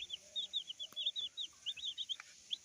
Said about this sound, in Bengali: এগুলো হলো মুরগির বাচ্চা